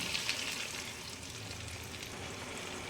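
Tomato and mutton fry in a pan with a steady, close sizzle that holds evenly throughout, with no talking.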